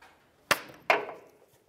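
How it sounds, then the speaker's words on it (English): A hammer strikes twice on the front axle of a 2005-2010 Dodge Dakota, two sharp metallic taps about half a second apart, close and fairly loud, the second ringing slightly longer. "Go ahead and use a hammer. We're gonna tap on the axle."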